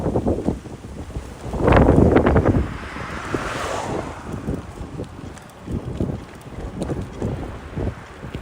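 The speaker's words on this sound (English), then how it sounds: "this wind has added a half hour to the ride" Strong gusting wind buffets the microphone on a bicycle ride around the Jamaica Bay Loop in New York City, a loud roaring burst swelling near the start amid steady rumbling turbulence throughout, with no talking.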